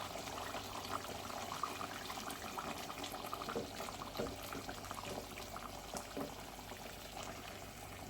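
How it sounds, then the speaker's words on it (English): Water is poured into a simmering pot of chicken curry with butternut squash, a faint steady gushing and bubbling hiss that runs continuously at low level with no talk. "I'm going to add my water now."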